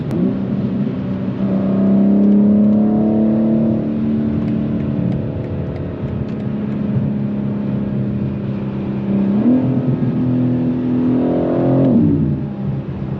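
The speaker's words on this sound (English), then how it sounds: "this car sounds good. I got intakes on there" A BMW G82 M4 fitted with aftermarket intakes revs while driving, its engine droning loud and close as it climbs in pitch, eases off, then surges again through another rising pull near the end.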